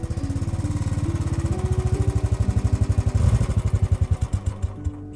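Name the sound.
motorcycle engine approaching and stopping, audio story effect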